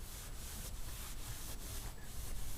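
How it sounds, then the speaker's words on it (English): A damp, wrung-out rag soaked in Murphy's oil soap water is wiped over the wood of a Lowrey organ rolltop, giving a steady close-up rubbing swish with several regular strokes and no talking. "then I'm going to wipe down the wood"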